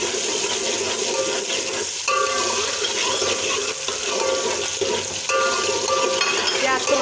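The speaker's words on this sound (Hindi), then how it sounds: "प्याज को हम जो है वो फ्राई करेंगे।" Chopped onions frying in hot ghee for a potato and egg curry, loud steady sizzle with a watery crackle and rhythmic stirring scrapes, surging slightly at a couple of points.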